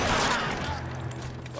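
Gunfire crackles through a tense police standoff in a video game, a dense burst of shots blending into rumbling background noise for a brief moment.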